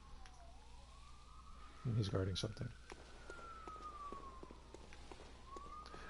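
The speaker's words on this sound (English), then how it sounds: "Sorry about the sirens" Police and emergency vehicle siren wailing outside in New York, a steady rising and falling tone running through the whole stretch, moderately loud in the background while someone speaks briefly over it.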